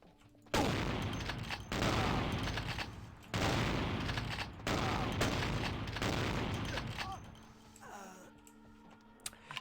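Shotgun blasts boom in the vampire game Vampire: The Masquerade - Bloodlines, several loud sustained bursts with short breaks between them, ending in quieter rustling.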